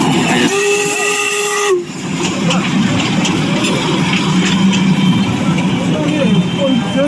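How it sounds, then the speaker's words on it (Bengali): A Darjeeling toy train steam engine gives a loud, sustained whistle that cuts off after a couple of seconds, leaving a strong continuous hiss of steam at close range. "এটা কিন্তু পুরোপুরি স্টিম ইঞ্জিন"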